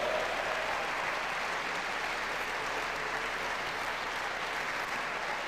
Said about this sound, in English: Let's have a nice round of applause for all four of our senior IPFW Mastodons